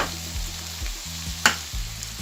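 Loitta dried fish with spices fries and sizzles in a pan while being stirred, a steady close crackle broken by repeated scraping strokes and one sharp clink.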